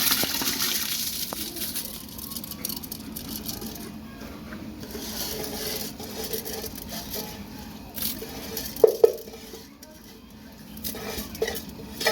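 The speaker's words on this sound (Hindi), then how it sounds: "चावल हम इसमें शामिल कर देंगे।" Rice goes into a pot of water for a degi-style chicken pulao, with clattering, stirring and watery scraping from the cookware, a few sharper knocks near the end and no talk.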